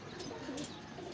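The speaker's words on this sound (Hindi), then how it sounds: "लेकिन बेसिकली ये टैडी कबूतर है।" A pet teddy pigeon coos softly and steadily at close range, with low, rounded cooing notes over faint background chatter of other birds.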